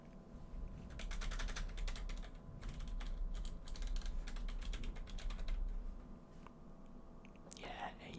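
Rapid bursts of typing on a new Razer keyboard, crisp clustered keystrokes close to the microphone in a quiet room, pausing near the end before a soft rustle.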